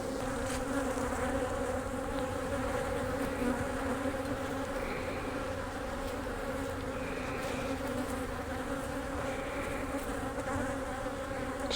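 Honeybees on a beehive frame holding swarm cells buzz in a loud, dense, continuous drone that stays steady throughout.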